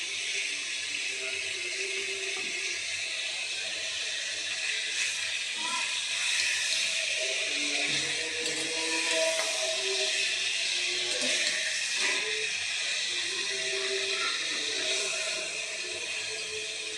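Ginger garlic paste sizzles in a hot pan while cooking chicken rice (morog polao), a steady close hiss running throughout with faint scattered clinks and no speech.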